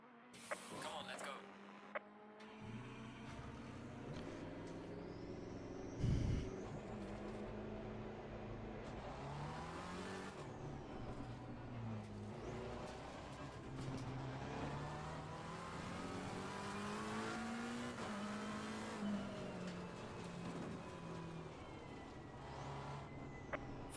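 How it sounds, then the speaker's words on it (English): Race car engines in Assetto Corsa Competizione drone steadily, revving and shifting through gears with rising and falling pitch, while people talk over the continuous engine noise. "Faster car behind you."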